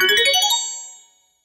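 A short phone notification chime rings out alone, a quick run of bright tonal notes over about half a second, then fading away cleanly into silence.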